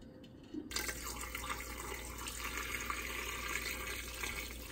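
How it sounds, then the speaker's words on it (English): Water gushes and splashes steadily into a stock pot of chicken bones, a sudden loud pour beginning under a second in and continuing without a break, close up with no talking. "we're going to pour this into the pot along with the water"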